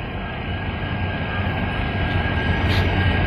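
KGM-based Alco WDP 4D diesel locomotive departing from Mysore with its auxiliary power unit running, a steady low engine drone with a faint hum, moderately distant and building slightly in loudness.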